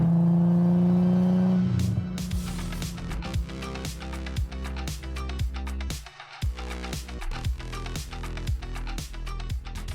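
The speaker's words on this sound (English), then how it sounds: "The third gear pull is ridiculous. The third gear pull, like 110K to 160K is one gear, and it just happens so effortlessly." A VR6-swapped VW Mk2 GTI accelerates hard in third gear, the engine note climbing steadily in pitch, then a brief gap, then rough, choppy revving with rapid pops and bursts close by.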